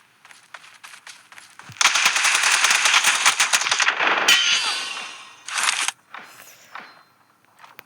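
Rapid automatic gunfire in PUBG Mobile, a loud sustained burst of close shots with metallic clangs, trailing off into scattered quieter shots and rattles.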